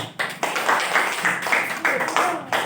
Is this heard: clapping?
yes